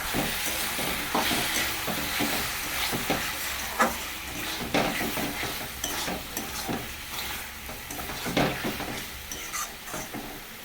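Ginger, cumin, chilli and tomato, with salt and turmeric, fry in oil for a katla fish curry, giving a steady close sizzle broken by repeated scrapes and knocks of stirring, with no voices.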